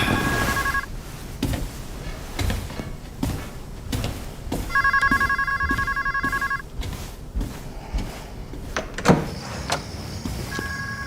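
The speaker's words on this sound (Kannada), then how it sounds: "ನಿನ್ ಫೋನ್ ರಿಂಗ್ ಆಗ್ತಿದೆ" A telephone bell rings in short repeated bursts with pauses between them, alongside clattering and knocking noises.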